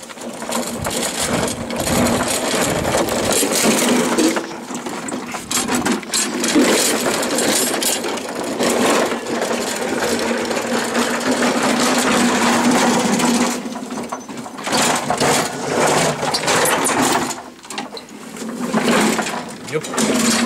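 A Quantum XM outboard motor on a Nautac boat runs with a steady, rapid buzzing drone that briefly dips a couple of times. Someone speaks over the engine noise.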